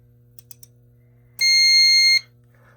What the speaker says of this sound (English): alarms are still going off